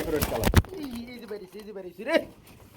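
Fancy pigeons cooing from farm cages, a few soft coos heard amid nearby people talking and bargaining.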